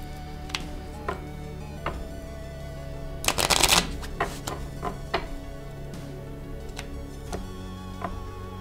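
Tarot cards are shuffled by hand at close range, with scattered sharp riffles and taps and one dense burst of rapid flicking midway, and no talk over it.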